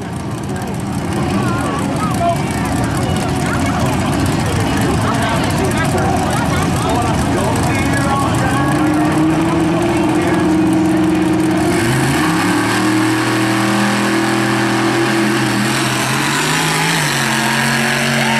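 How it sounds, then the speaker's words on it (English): Super Pro class drag racing engines at a Friday night drag event at Atlanta Motor Speedway in 2014, a loud sustained roar with rising engine tones, heard amid crowd and announcer talk. "The roar of these engines."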